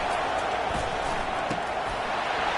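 A stadium crowd roars steadily in a college football video game, a dense continuous wash of cheering that stays loud and unbroken throughout.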